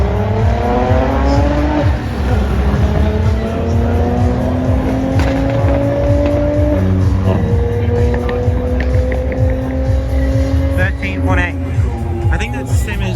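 Audi B5 cars race at a European car show, their engines revving hard and climbing through gears in long rising whines, loud and close with a steady roar throughout and faint squeals near the end.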